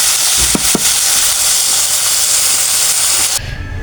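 Tomatoes frying in a pan for a tomato chutney, making a loud, continuous sizzle with a couple of brief stirring knocks early on, then cutting abruptly to quieter background near the end.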